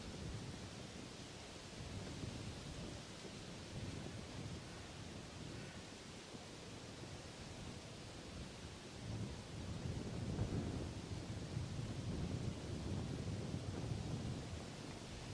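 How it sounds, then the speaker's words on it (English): Breeze rising through trees near an airfield, a steady broadband rush that stays fairly soft and swells a little stronger toward the end, with no talking. "It was quite calm, but it's starting to get a bit breezy."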